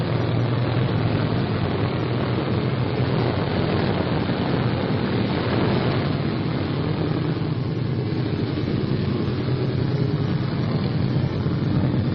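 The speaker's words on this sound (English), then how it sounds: "We're going up to see how this airplane reacts." A Republic P-47 Thunderbolt fighter's heavy piston engine drones steadily and loudly throughout, a continuous low rumble with no pauses and no voices.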